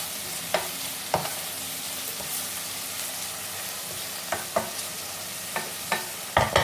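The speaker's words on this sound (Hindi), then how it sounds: "ऐसे भी अच्छे से भून लेते हैं।" Homemade, lightly crushed ginger-garlic paste sautéing in a pan for a Sindhi-style fish dish, with a continuous sizzle under repeated sharp scrapes and clacks of a spoon stirring, close and fairly loud.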